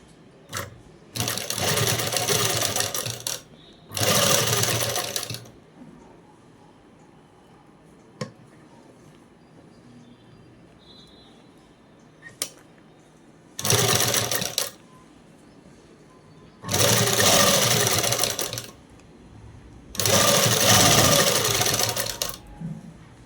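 A sewing machine stitching round a collar with lining cloth, heard in five loud separate bursts of rapid clatter, each a second or two long, with quiet stretches and small handling clicks between them.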